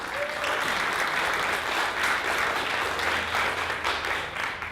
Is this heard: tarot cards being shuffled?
no